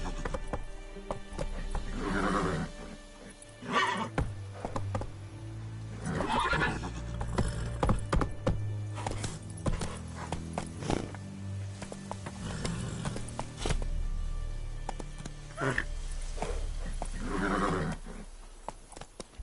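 Roach, a horse in Witcher 3, gallops with steady rhythmic hoofbeats and gives several loud whinnies spread across the run, the neighs standing out clearly over the pounding clip-clop.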